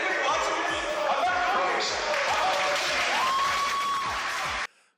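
An audience claps steadily through a crowded hall, a dense patter of hands at moderate loudness with voices shouting over it, ending abruptly near the end.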